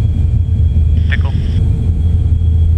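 B-52 bomber engines during the takeoff roll, a loud, steady low roar that fills the cockpit with a faint high tone, while crew voices talk over it.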